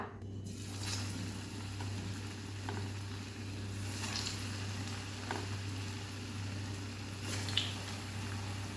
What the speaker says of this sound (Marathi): तेल गरम झालं आहे आपलं आणि इथे बघू शकता आपले हे सर्व कटलेट आपले वळून झालेले आहेत आता आपण हे फ्राय करून घेऊया